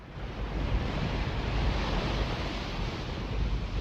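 Ocean waves crashing against a coast during a tsunami: a steady, broad roar of surf mixed with wind buffeting, dense and unbroken throughout, with no voices.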